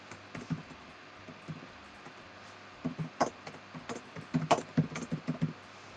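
Text is typed on a computer keyboard while making a PowerPoint graphic, with short bursts of soft key clicks separated by pauses, close and fairly quiet, no talking.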